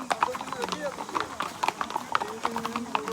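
Horses' hooves clip-clop along the paths of the hill station Matheran in Maharashtra, a run of quick irregular hoof knocks close by, with talk and bustle around them.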